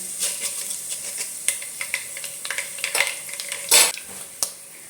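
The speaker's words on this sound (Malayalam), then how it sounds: "അതേ ടീസ്പൂൺ അളവിൽ നമുക്ക് കടുക് ഇട്ട് കൊടുക്കാം." Mustard seeds and fenugreek sizzle and pop in hot oil for a lemon pickle, with sharp crackling bursts scattered over a steady hiss and a louder spatter burst near the end.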